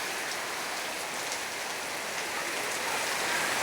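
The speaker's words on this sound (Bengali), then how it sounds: "প্রচুর ভারী বর্ষণ সৃষ্টি হয়েছে" Heavy downpour under a dark sky, a steady dense hiss of rain pouring and splashing on surfaces nearby, continuous and unbroken for the whole stretch with no voices.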